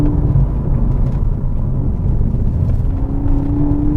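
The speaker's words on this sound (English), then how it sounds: "This car is so much fun on this kind of road." A Mk6 Golf GTI Edition 35 drives on a winding road, its engine droning loud and close from inside the cabin with a steady rumble and slight shifts in pitch as it pulls along.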